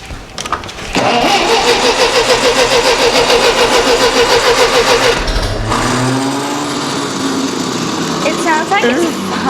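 A Ferguson TEA20 tractor engine cranks, catches and runs roughly with a pulsing, uneven beat, settling into a labored idle, with voices heard talking near the end.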